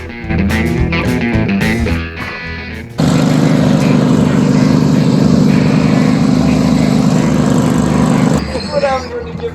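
A lawn mower engine starts up loud and close, holding a steady droning roar for several seconds before cutting off, with talk and other sounds before it begins.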